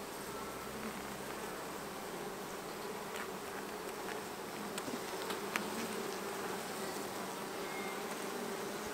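Honey bees buzzing steadily around an open hive during an inspection, a dense continuous hum close by with faint clicks and no talking.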